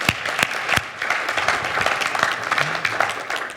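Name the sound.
church congregation round of applause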